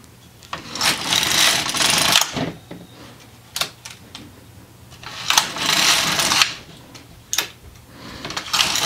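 Carriage of an LK150 knitting machine sliding across the needle bed for short rows, rattling, clattering passes that come in repeated bursts with sharp clicks between them, close and loud.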